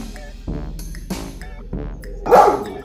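A dog barks at its own reflection on a television several times in sharp, spaced bursts, the last bark louder and higher, with quiet background between.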